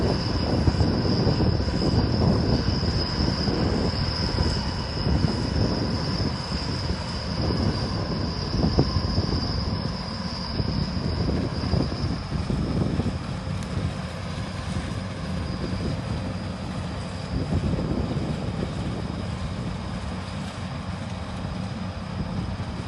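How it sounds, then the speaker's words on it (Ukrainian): A combine harvester threshing sunflowers in a field, a loud continuous mechanical rumble and rattle with a steady high whine above it, sustained throughout with no voices. "Хороший комбайн на свій бюджет, на не сильно багато гектарів"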